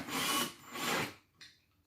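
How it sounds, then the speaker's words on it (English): A power drill tightens screws while an office chair is being assembled, giving two sustained whirring bursts and a brief third burst, close and fairly loud, with no speech. "Okay, get the drill. Here it is. Tighten them up."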